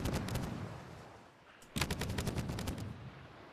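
Cannon fire from the pirate naval game Caribbean!, with rapid booming shots, a short lull, then a dense volley of repeated blasts at a steady rhythm.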